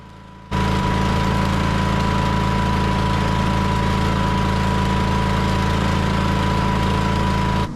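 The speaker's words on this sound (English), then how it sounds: "now we're just welding up the bumpers" A welder joining the bumpers onto a steel dock leveler, a loud, steady buzzing hum that starts abruptly and holds constant, close by and with no talk.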